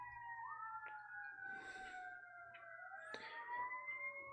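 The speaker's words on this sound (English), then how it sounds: "a lot of sirens" Several emergency vehicle sirens wail at once, with gliding, overlapping tones rising and falling in the distance, steady and moderately faint, with no talking over them.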